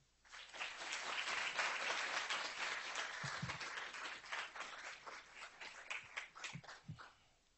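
An audience at a Harvard & MIT leadership keynote applauds to welcome speaker Jaime Gilinski: dense, sustained clapping from a crowd that fades into thinner, scattered claps toward the end.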